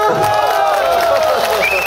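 A crowd at a villain-hitting gathering gives loud, dense applause and cheering for reporters, a continuous wash of clapping and voices close by.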